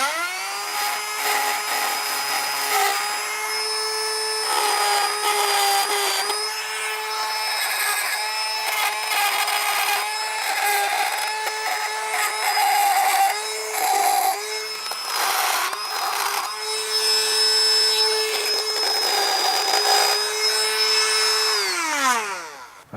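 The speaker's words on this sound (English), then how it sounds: "I'm going to use my Milwaukee and actually grind around these till they're flat." A Milwaukee grinder cuts flats onto rounded bolts, a loud, close, continuous high-pitched whine that rises and dips as the disc bites into the metal, then spins down at the end.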